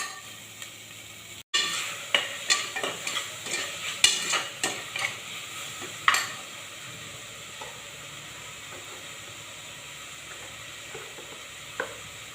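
Tomatoes sizzle and fry in a pan as a spoon stirs them, with a burst of scraping strokes early on that thins to occasional clinks over a steady frying hiss, close and moderately loud with no talk.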